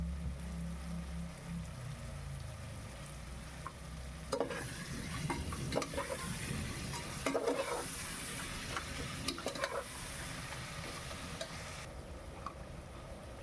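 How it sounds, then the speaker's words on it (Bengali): Chicken curry masala with salt being stirred and sautéed in a pan: a continuous soft sizzle beneath repeated scraping and clinking of a spoon against the pan, close by, louder in the middle stretch, with no talk. "লবণটা দিয়েও ভালো করে আমাকে নাড়িয়ে চাড়িয়ে নিতে হবে"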